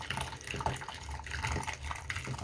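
Boiling water is poured into a basin of liquid soap mixture made with chlorine bleach, giving a steady, continuous splashing and trickling that holds through the whole stretch with no talk.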